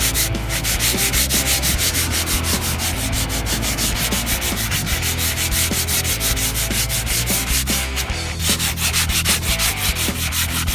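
Steady, continuous scratchy rubbing of sandpaper worked by hand across wood, with rhythmic back-and-forth strokes throughout, close and fairly loud.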